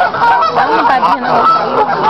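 Loud, repeated honking calls from a duck, harsh and nasal, coming in a steady rapid series close by.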